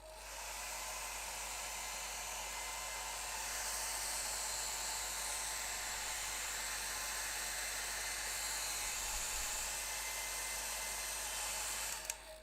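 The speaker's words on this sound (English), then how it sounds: "I'm just going to get the hairdryer in this for a little minute." A hairdryer blows steadily on wet acrylic paint, a constant whirring hiss that holds at an even, fairly loud level for about twelve seconds before cutting off abruptly at the end.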